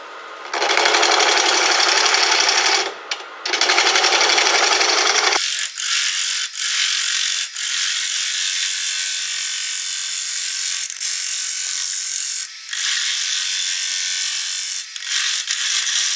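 A bowl gouge cuts into a red oak platter spinning on a wood lathe, producing a loud, steady broadband scraping hiss that runs continuously with a few brief breaks, heavier and fuller in the first few seconds.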